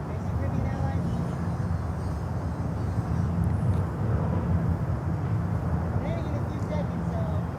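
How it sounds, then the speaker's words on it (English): An American Airlines Airbus A319 landing on runway 12 at Miami airport: a steady, distant jet roar that holds at an even level throughout, with no talk. "We have a 319 coming in on runway 12."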